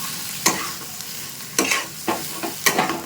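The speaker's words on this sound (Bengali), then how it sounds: "এবার একটু ধনে পাতা দেবো, ভালো করে মিশিয়ে দিচ্ছি" A spoon stirring potato kochuri filling with fresh coriander in a frying pan, four or five distinct scraping strokes over a soft steady sizzle, close and fairly loud, with no talking.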